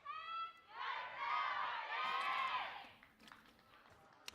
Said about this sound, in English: DRX faithful cheering out.